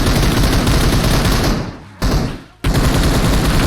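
Rapid, dense gunfire from the mobile game PUBG Mobile fills the clip with loud, continuous bursts, broken by two brief drops where the shooting falls quieter before resuming at full intensity.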